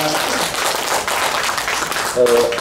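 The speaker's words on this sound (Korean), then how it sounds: "같이 박수하겠습니다" An audience at a church prayer rally lecture claps together in a dense, steady wash of applause, with a voice speaking over it.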